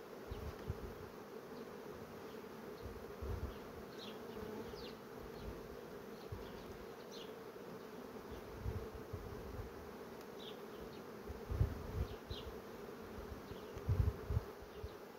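Honeybees hum around an open hive frame during a colony inspection, a soft steady buzz with occasional closer passes of individual bees rising briefly above it.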